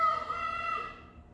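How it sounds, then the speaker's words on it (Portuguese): A rooster crows from above a motorcycle repair workshop, a single drawn-out call of about a second that fades at the end, moderately distant and heard alone without talk. "Mas parece que essa galinha tá em cima da oficina, né? Esse galo."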